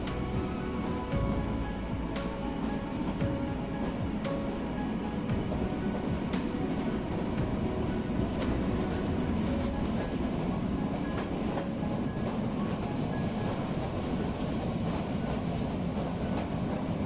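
Shimla toy train rolling toward Barog tunnel, a steady loud rumble of wheels and carriages with rhythmic clickety-clack and faint squeals throughout, no voices.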